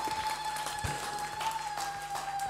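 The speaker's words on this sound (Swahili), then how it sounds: "Tumpigie Yesu makofi ya shukrani." A church congregation applauds in thanks to Jesus during a prayer service, a steady, dense wash of clapping hands filling the room at moderate volume, with a sustained tone ringing faintly beneath it.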